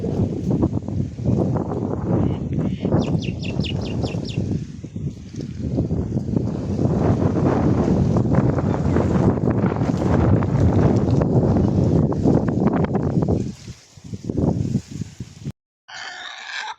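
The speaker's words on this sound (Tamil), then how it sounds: "ஒரு மாதிரி ஜில்லு ஜில்லுன்னு காற்றடிக்குது." Strong wind buffets the microphone in a continuous loud roar, with faint bird chirps briefly audible at moments.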